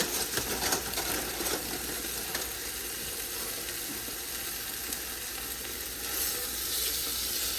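Chicken pieces for Puerto Rican arroz con pollo sizzle steadily in a hot pot, a dense, even crackle of frying that runs alone for several seconds with small pops and no talking.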